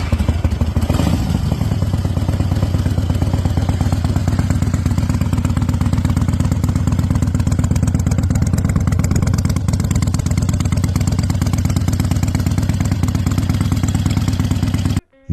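Harley-Davidson Ironhead XLH motorcycle engine running steadily and loud for the whole stretch, a continuous clattering idle with a brief swell near the start and an abrupt cutoff at the end.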